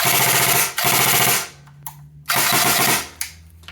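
Two loud bursts of rapid full-auto fire from a G&G ARP556 2.0 airsoft rifle, a rattling mechanical buzz, separated by brief pauses with a faint motor whine between.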